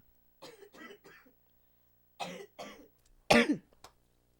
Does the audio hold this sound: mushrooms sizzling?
no